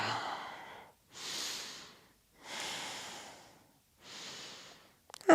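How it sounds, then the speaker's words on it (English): Slow, deep breathing while holding a yoga bridge pose: three long, airy breaths spaced evenly, close and moderately loud, with pauses of near silence between them and a brief louder rustle at the end. "Take a couple of full breaths here."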